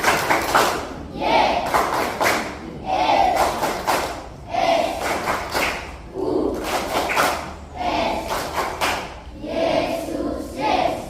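At a First Communion Mass, a crowd of primary school children repeats the 'Jesus clap', with loud rhythmic rounds of group chanting and clapping broken by short pauses, close and energetic throughout.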